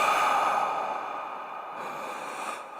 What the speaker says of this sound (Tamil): ஃபோனுக்கு அந்த பக்கம் யாரோ மூச்சு விடுற சவுண்டை மட்டும்